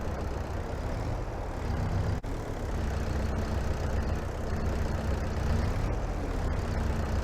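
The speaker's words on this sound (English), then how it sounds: "we're gonna haul this with anything smaller than this tractor" A tractor engine in the video game Farming Simulator 22 idles with a steady low drone, one brief click partway through and no voices.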